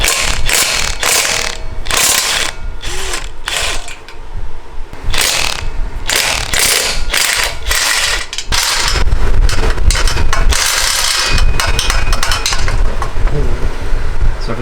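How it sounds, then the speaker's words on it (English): A ratchet with an 11mm deep socket works the exhaust nuts where the midpipe meets the downpipe on a BMW F80 M3, loud, close clicking in quick bursts repeated throughout, no talk. "we're going to use an 11mm socket, deep socket, to get those nuts off there"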